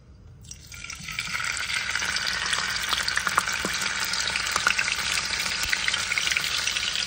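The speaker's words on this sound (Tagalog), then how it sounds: "Ipiprito natin." Water spinach (kangkong) for adobong kangkong hits hot oil in a pan, a loud, steady sizzle that bursts in after a brief quiet start and keeps crackling evenly, with no talk.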